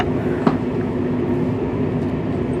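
A passenger train running toward Hereford makes a steady, close, rumbling drone with a brief sharp click near the start, heard alone without talk.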